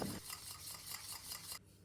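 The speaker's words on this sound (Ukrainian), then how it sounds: "Беремо 100 г вершкового сиру, ту же Філадельфію чи маскарпоне, по 20 г вершків та цукрової пудри і гарно перемішуємо." Cream cheese such as Philadelphia or mascarpone is stirred with cream and powdered sugar into a no-bake Oreo cheesecake filling, giving brisk, repeated scraping strokes in a bowl that stop abruptly near the end.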